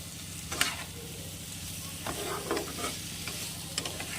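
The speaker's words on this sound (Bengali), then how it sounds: "ভেজে রাখা পটল আলুটা দিয়ে দিতে হবে দিয়ে মশলার সাথে ভালো করে মিশিয়ে নিতে হবে একটু নেড়ে চেড়ে" Fried pointed gourd and potato are stirred into an oily masala in a pan, a quiet, steady sizzle broken by several soft scraping and clinking stirs up close.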